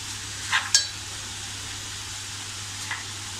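Ridge gourd with fresh coconut cooking in a pan, a faint continuous sizzle with a few light stirring scrapes and clinks of a utensil.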